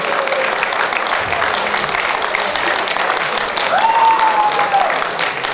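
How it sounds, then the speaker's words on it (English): A dense, steady wash of audience applause fills an annual dinner hall as a guest is called to the stage, with a brief voice or whistle rising above the clapping near the end. "put your hands together for Sir Jodat Ali Malik"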